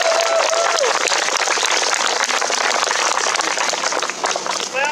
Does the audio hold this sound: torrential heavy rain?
no